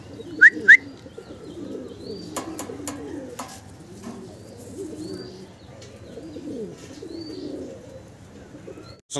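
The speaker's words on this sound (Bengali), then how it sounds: "দর্শক ভিডিও স্ক্রিনে আপনারা দেখতেছেন ম্যাকপাই ড্যানিশ কবুতর, একদম জেড ব্ল্যাক, কালো কুচকুচে।" Jet-black Danish magpie pigeons coo in low, rolling phrases close by, steady throughout, with a couple of sharp chirps and clicks early on and no talking.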